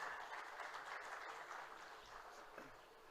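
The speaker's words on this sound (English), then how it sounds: "Can we have a round of applause for the Punjab government here?" Audience applause at a Punjab startup ecosystem event, a steady, fairly distant wash of clapping that fades slightly toward the end.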